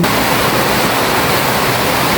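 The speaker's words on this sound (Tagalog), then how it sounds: "Walang tigil po ang ulan." Dense, steady downpour roaring without a break, a loud, even hiss of heavy rain with no voices.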